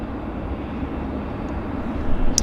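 A jet aircraft at Vancouver YVR airport during pushback gives off a steady, moderately loud engine roar and hum heard from outside, continuous and unchanging, with a faint brief high tone near the end.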